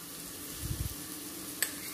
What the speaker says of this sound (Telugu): ఈ టమాటాలు కొంచెం మెత్తబడేంత వరకు ఇలా కలుపుకుంటూ వేగనివ్వాలి.